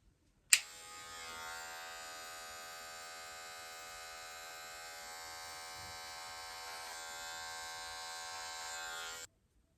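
Electric hair clippers run freehand during a self-cut low-to-mid taper fade, switching on with a click and then buzzing steadily and closely for about nine seconds with no talk.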